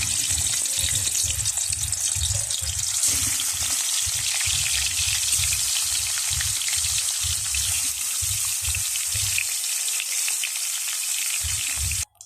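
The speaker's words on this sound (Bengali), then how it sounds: "তেলটা গরম হয়ে গেলে আমি মাছটাকে সুন্দর করে ভেজে নিব" Silver carp pieces fry in hot oil in a pan, a loud continuous crackling sizzle running close up for several seconds before cutting off abruptly.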